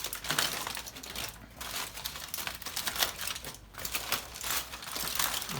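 Foil or butcher paper crinkling and rustling as a rested, smoked pork butt from a pellet grill is unwrapped, a close, steady crackle with brief louder crumples and no talking.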